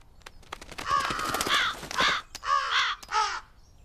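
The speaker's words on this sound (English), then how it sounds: "But the crows didn't fly very far away" Several crows caw close by, harsh hoarse calls in a quick run of about five or six, some overlapping, with faint clicks around them and no talking.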